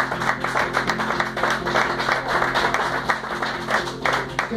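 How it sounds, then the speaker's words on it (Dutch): Moderate audience applause and clapping for a singer at a live music set in a Hilversum venue, steady with uneven peaks over a low musical hum. "Een warm applaus voor de beste zangeres van die duo."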